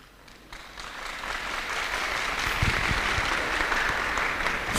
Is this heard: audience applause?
yes